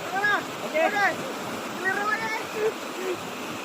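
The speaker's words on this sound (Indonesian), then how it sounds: "Jadi buat teman-teman yang mau berliburan ke Morowali, tepatnya di air terjun Sungai Makarti." The Sungai Makarti waterfall in Morowali makes a steady rushing roar beneath a person talking close by.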